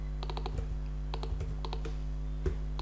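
Keystrokes of JavaScript code being typed on a computer keyboard, a few scattered clicks in small bursts over a steady low electrical hum, with no talking.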